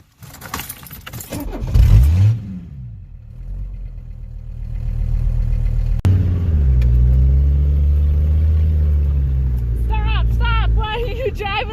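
A diesel Mercedes car drives hard, its engine rumbling loudly and steadily with rising and falling tones after a brief jangle and early revving; people talk over the drive.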